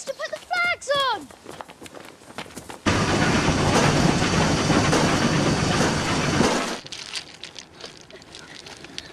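Train rumbles past on a railway line in a loud, dense roar lasting several seconds, preceded and followed by scattered voices, shouts and movement nearby.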